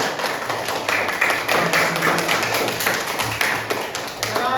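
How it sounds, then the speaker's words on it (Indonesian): A school class claps their hands together in a classroom, a fairly loud, steady patter of claps lasting throughout. "tepuk tangan."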